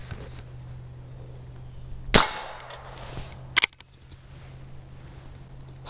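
A Heritage Rough Rider Rancher revolving carbine fires two sharp cracks about a second and a half apart, each with a short ringing tail, over a steady low background hum.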